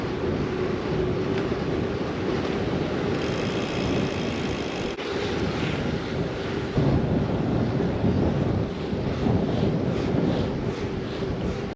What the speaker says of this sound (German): jetzt haben wir einen fetten Gegenwind